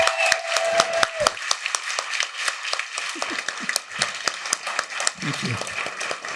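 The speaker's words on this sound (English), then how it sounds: "Can we have a round of applause for all of our storytellers?" An audience claps for storytellers at a live storytelling event, a dense run of many hands applauding steadily at moderate loudness, with brief voices mixed in.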